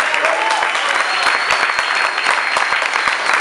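A crowd at a live band concert in the Officine Cantelmo venue claps steadily, a dense, loud wash of applause that holds evenly throughout with no break.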